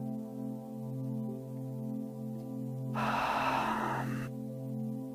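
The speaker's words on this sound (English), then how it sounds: "Still creating that ujjayi sound on the exhales" A single long ujjayi breath drawn through the nose during yoga practice, a soft, airy, hissing rush lasting about a second, heard alone over a steady low background tone.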